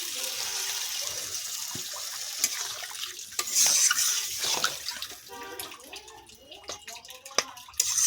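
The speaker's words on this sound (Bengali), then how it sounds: "এবারে জল দেবো জল দেব" Water is poured into a simmering soybean kofta curry with potatoes, a splashing, hissing rush over sizzling and stirring, close up, with a few clinks and scrapes toward the end.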